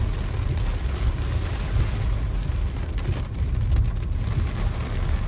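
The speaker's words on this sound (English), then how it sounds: "The rain is lightening up slightly." Steady thunderstorm rain drums on a driving car's roof and windshield, a constant wash of noise over a low road rumble, with no voices.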